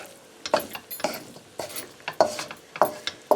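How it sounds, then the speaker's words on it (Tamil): Prawns stirred into egg noodles in a pan, a string of rhythmic scraping strokes with light metallic clinks over a faint sizzle, close and clear. "ப்ரானையும் போட்டு அதை மிக்ஸ் பண்ணுவோம்."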